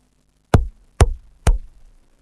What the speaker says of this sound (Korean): 문을 두드리는 소리가 들렸습니다.